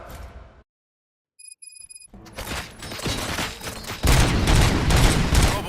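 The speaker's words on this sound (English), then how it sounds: "Gunshots?" Gunfire in the shooter game Robocop: Rogue City erupts after a short silence, building from scattered shots into dense, loud bursts of rapid fire with heavy booms toward the end.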